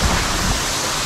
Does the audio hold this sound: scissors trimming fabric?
no